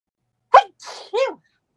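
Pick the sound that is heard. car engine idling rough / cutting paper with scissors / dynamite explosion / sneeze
sneeze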